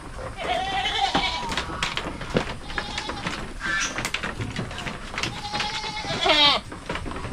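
Goats on a farm bleat in several wavering cries, two prominent calls standing out near and clear over a background of rustling and faint clatter.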